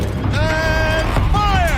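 A mechanical turret turns in the game Horizon Zero Dawn, a loud grinding, creaking whir with rising and falling tonal whines in two sweeps under a busy game backdrop.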